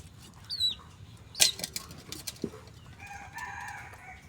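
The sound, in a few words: chick peeping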